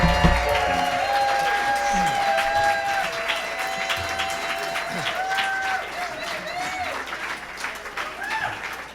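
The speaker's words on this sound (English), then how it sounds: "That's my daughter Angelica, who jumped to her feet to applaud her" A concert audience claps and cheers after a song, sustained applause with sung or held notes fading through it, a fairly loud room full of hands.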